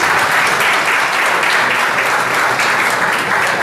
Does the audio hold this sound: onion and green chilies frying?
no